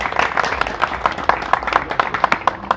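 An audience at a Vodou commemoration of Jean-Jacques Dessalines claps in a steady, rhythmic round of applause, loud and close, with a few voices mixed in.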